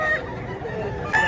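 Rooster at a gamefarm in Mantalungon, Cebu, crowing in a brief near call at the start and again at the end, with other fowl clucking and a continuous farmyard murmur underneath.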